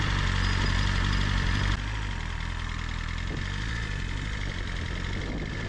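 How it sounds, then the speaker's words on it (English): A BMW S1000RR motorcycle fitted with an Akrapovic exhaust idles in a steady, close, rumbling drone that drops slightly in level partway through and stays even, with no revving and no talk. "hopefully you can hear the engine sound, which is fantastic"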